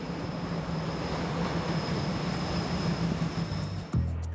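A commuter train near Buenos Aires rumbles steadily along the tracks with a continuous low roar and a faint high whine, shifting near the end.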